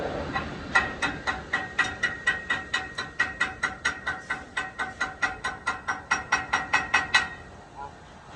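Rapid, evenly spaced hammer taps ring out, about two dozen metallic strikes chipping weld slag off a root pass on steel practice plates nearby, then stopping abruptly.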